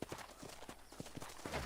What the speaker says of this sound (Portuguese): O cavalo já vem até mim, ó